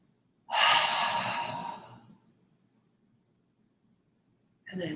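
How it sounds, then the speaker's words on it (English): A single long, deep inhale during a yoga class, loud and close, lasting about a second and a half before fading into quiet room hush; another breath begins at the very end. "Deep breath in."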